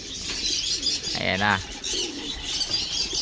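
Pigeons cooing in a low, rolling burst with a little wing flapping nearby, while someone speaks briefly over the birds.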